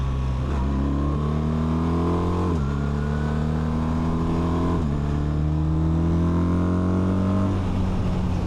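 A BMW motorcycle with an ASA automatic gearbox revs up repeatedly, its engine pitch rising and then dropping sharply at three gear changes, loud and close throughout.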